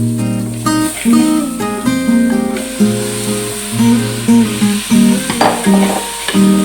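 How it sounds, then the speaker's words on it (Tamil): Chicken stirred and sautéed in a pan for a dried red chilli chicken dish, steady scraping and frying sounds throughout under a tonal, music-like background. "இப்போ சிக்கனை வந்து நல்லா வதக்கி எடுத்துக்கோங்க"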